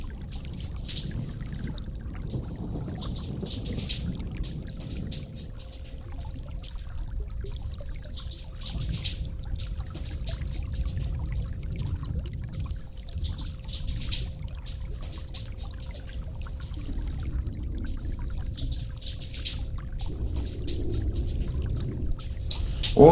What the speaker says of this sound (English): Yeah, I'm peeing on the floor, dude.